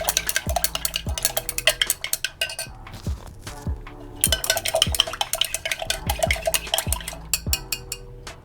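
Green tea and mango facial mist ingredients are mixed in a container with a steady, rhythmic clinking of a utensil against the sides, close and fairly loud, repeating about once a second.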